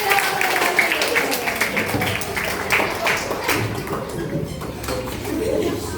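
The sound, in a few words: classroom of children applauding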